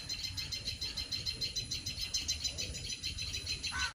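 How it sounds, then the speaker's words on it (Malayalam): Birds calling in alarm near a snake during rainy weather by a house, a dense, steady stream of high repeated chirps and cries with insect-like buzzing underneath, continuous and fairly close, with no talking. "ഈ കിളികളുടെ കരച്ചിൽ ഇങ്ങനെ നന്നായി കേൾക്കുന്നുണ്ട്."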